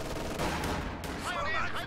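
Dense, overlapping gunfire and explosions from a WWII strategy battle, with shots penetrating a Panther tank's frontal armor, a constant loud din of bursts with a voice talking over it.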